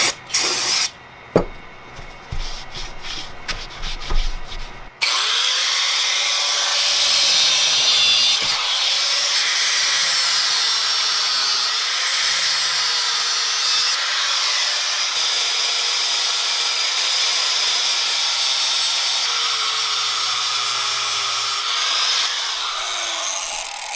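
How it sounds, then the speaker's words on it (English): Angle grinder cutting and grinding chain guard mounts off the steel frame of a 1980 Kawasaki KZ750 LTD café racer motorcycle, a loud sustained close-up whine after a few brief starts. "we'll zap these off and grind that down"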